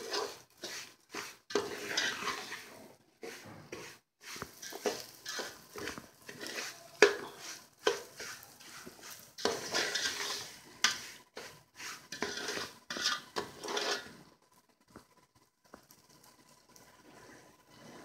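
Suji halwa is stirred in desi ghee in a pan with repeated scraping strokes of a spoon against the metal. The strokes are soft and uneven, with brief pauses, then fade to near quiet at the end.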